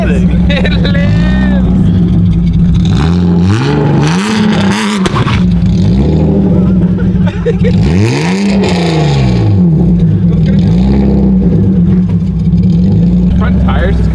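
A BMW E36 drift car engine revs hard and loud, surging and falling in repeated waves over a steady throaty idle, close by, with people talking excitedly over it.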